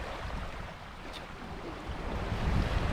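Ocean waves washing onto the beach at Winderabandi Point at sunrise, a continuous soft rushing surf with some wind noise, swelling slightly louder toward the end.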